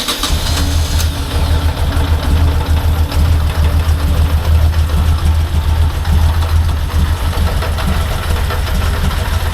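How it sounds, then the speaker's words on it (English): A 1998 Moto Guzzi California motorcycle engine idles steadily and fairly close, a continuous deep throbbing rumble with a constant low pulse and no voices. "let's give it a go and just let it idle for a bit and get some of that fresh oil through"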